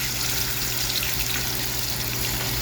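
Vegetables go into a hot pan with onion for a coconut fish curry, giving a steady, close, dense frying sizzle with a watery hiss throughout and no talking.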